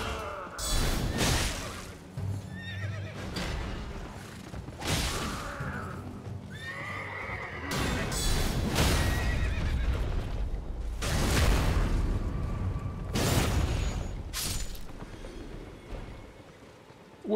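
Horse in the video game Elden Ring whinnying and snorting repeatedly amid clopping hooves and combat noise, loud and close over about seventeen seconds.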